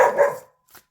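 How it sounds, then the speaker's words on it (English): A single short dog bark, fairly close, followed by a faint brief yip after a pause. "that's my dog just making a little bit of noise because there was a noise in the kitchen"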